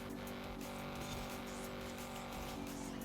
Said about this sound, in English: This is how this car really sounds.